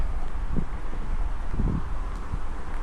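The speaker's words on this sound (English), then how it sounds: "it's a nice breezy day" A steady breeze blows outdoors on a hot day at the Raymond battlefield in Mississippi, buffeting the microphone with a constant rushing noise and faint rustling, with no voices.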